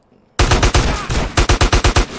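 Gunfire in GTA San Andreas Definitive Edition: a loud sustained burst of automatic fire, then a rapid string of about eight separate sharp shots in quick succession.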